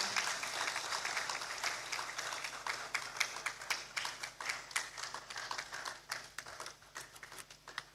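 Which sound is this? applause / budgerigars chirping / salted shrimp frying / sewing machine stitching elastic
applause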